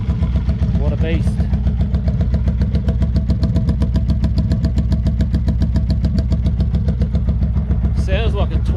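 A cold Honda VF750 V4 motorcycle engine idles steadily and close by, its even, rapid throbbing pulse sounding like a twin, with a brief rev-like swell near the start and end.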